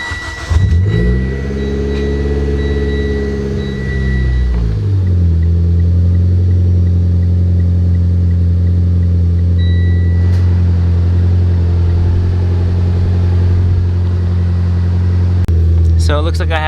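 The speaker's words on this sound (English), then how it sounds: "I'm gonna go ahead and turn the car on from the passenger seat just to make sure." A Mitsubishi Lancer engine cranks, catches and briefly revs near the car, then settles into a steady, loud idle rumble that runs on without a break and without any voices.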